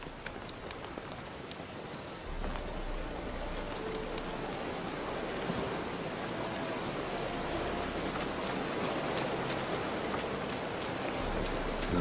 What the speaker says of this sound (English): even though it started raining like a while ago